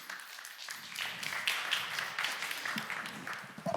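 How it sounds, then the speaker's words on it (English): An audience at a foreign policy conference applauds as panelists come on stage, a lively, dense round of clapping that swells and holds steady throughout. "let's welcome them all on stage now by giving them a big round of applause"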